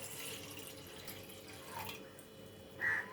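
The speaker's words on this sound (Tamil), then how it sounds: "முதல்ல ஒரு பாத்திரத்தில் 1 கிளாஸ் அளவு தண்ணி சேர்த்துக்கோங்க" Water from a tap runs into a pot being readied for hibiscus tea, a faint steady trickle with a brief louder splash near the end.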